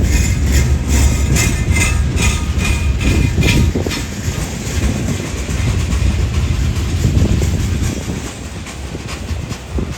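A long Union Pacific freight train of 96 cars, half loaded and half empty, rolls past close by with steady heavy rumble and rhythmic clickety-clack of wheels over rail joints.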